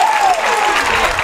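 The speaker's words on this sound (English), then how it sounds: "gets a nice cheer from his home crowd" Home crowd at a high school football game cheering and applauding loudly in the stands, a dense roar with a brief whistle at the start.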